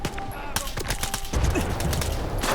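Rapid bursts of gunfire in the shooter game Stalker 2 crackle densely and loudly throughout, with shots overlapping in a near-continuous volley and no talking.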